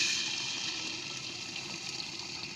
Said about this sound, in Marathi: चांगलं तांब्याभर पाणी ओतलं आता मी